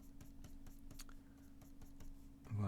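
A pencil drawing a face in profile, rapid light scratching strokes in a quick rhythm close by over a low steady hum, ending in a brief thud of handling.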